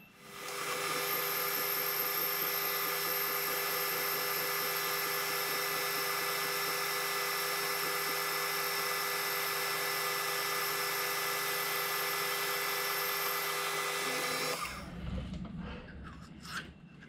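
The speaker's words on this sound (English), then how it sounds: "I'm using a carbide boring bar and a tip for aluminium actually" A lathe bores aluminium with a carbide boring bar and aluminium tip, making a steady high whine with a rich layer of cutting hiss for about fifteen seconds before it suddenly stops, leaving low rumble.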